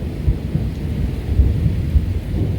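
Thunder rumbles low and continuous through a severe thunderstorm with rain on Dauphin Island, Alabama, a loud rolling roar with irregular swells and no voices.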